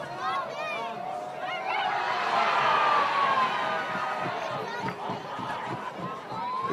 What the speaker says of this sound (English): the crowd is in raptures at the moment